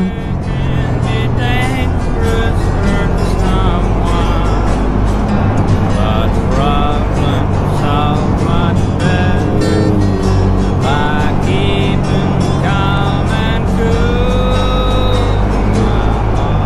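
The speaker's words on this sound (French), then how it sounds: "il y a des voitures, il y a des centaines de voitures" Steady loud rumble of heavy road traffic with engines droning nonstop, while people talk over the noise.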